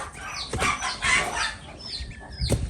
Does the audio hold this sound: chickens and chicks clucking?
yes